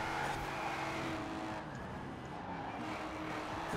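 Budget cars, a BMW and a Pontiac, race in Forza Horizon 4 with a continuous faint engine roar and tyre noise, steady throughout with no speech.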